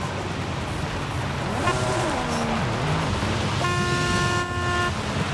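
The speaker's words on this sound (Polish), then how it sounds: "Coś tam zaczęli trąbić." Car horns honk in Forza Horizon around a Ford Transit SuperVan 4, with a couple of sustained horn blasts sounding over a dense engine and road rumble.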